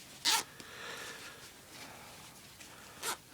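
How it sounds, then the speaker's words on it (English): Plastic zipper on the lower leg of Arktis C111 combat trousers, two short quick zipping rasps, one near the start and one near the end, close and crisp in a quiet room. "So plasticized zipper."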